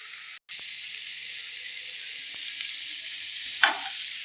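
Bitter gourd (kakarakaya) slices frying in a pan on a stove over a low flame give a steady, close sizzling hiss that drops out for a moment near the start, with a soft stirring clatter toward the end.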